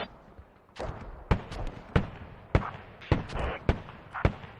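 Mortar rounds fire in a tactical military shooter match, a series of about seven sharp booming blasts spaced roughly every half second to second, loud and close, with a faint rumbling backdrop between impacts.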